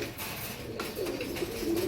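Ambarsari pigeon, an old Indian breed, cooing in a low, rolling warble that swells in the second half, close and fairly steady with no talk.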